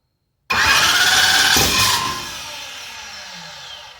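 A Hemi V8 engine cranks and fires after silence, bursting into a loud throttle-blipped rev that settles into a steady idle, close and alone.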